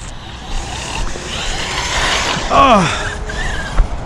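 Tekno ET48 and Serpent RC cars practicing at Lake Cholla, with high-pitched nitro engine whines rising and falling as the cars pass nearby, plus a faint exclamation.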